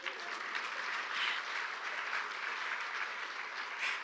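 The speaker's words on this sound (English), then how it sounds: "You can clap." An audience at the Parkway Theater in Minneapolis, gathered for a literary event, applauds steadily; the clapping is dense and even throughout, moderately loud from a full room.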